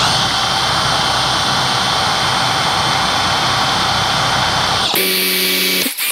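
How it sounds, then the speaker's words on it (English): Power drill drilling out Phillips head screws on a Mercedes-Benz OM617 diesel engine, a loud continuous high whine that cuts off abruptly near the end, followed by a brief quieter tone. "They're just going to have to be drilled out."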